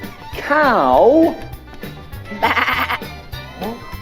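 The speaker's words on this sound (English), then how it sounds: "Oh, sheep." Cartoon sheep in a children's English learning app bleat in wavering, vibrato cries, first one long call, then a shorter burst and a final brief bleat, loud and close with speech-like tones.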